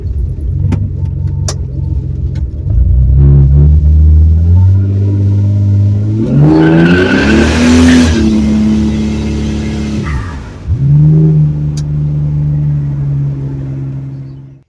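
A 1970 Torino turbo inline six with a new exhaust and twin mufflers idles with a steady, fairly subdued rumble, then revs up and back down twice. The engine sounds close and loud, and no one talks.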